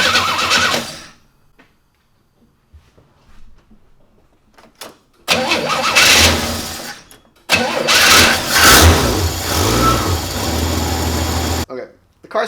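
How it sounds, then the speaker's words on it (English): A 1967 Chevy Camaro engine with a rebuilt Rochester carburetor cranks with a whirring starter, then catches and runs with a rough idle after a few seconds of near silence and small clicks. "Car starts fine."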